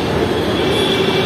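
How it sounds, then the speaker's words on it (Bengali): An elevated metro train rumbles past overhead above a city road, a loud, steady roar of rolling wheels with a faint squeal running through it, close and continuous. "এই দেখো মেট্রো যাচ্ছে উপর থেকে"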